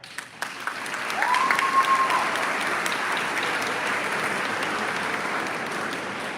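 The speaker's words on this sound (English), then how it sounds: "Round of applause if it's them." A commencement crowd at Georgia Military College bursts into applause that swells after a second and stays full and steady, with a brief tonal whistle-like sound early on.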